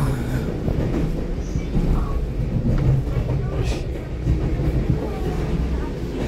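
An EMU900 electric commuter train pulling into Ruifang station on the Yilan line, a loud, steady rumble of wheels and motors with faint rail clatter, as a voice talks over it.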